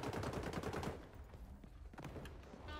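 Rapid gunfire bursts in the shooter game XDefiant, a dense loud volley for about a second, then scattered sharper single shots and clatter over a quieter background.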